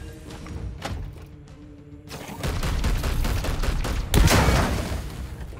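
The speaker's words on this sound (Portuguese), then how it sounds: "Vou atirar aqui pra ver se é realmente forte." Heavy weapon fire in Warhammer 40,000: Chaos Gate – Daemon Hunters: after a quieter stretch of sparse thumps, a loud rolling barrage of shots and impacts builds, peaking in a sharp, booming blast near the end.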